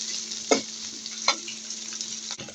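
Onions fry in a pan with a steady, close sizzle, broken by two sharp utensil knocks early on and a brief dip near the end.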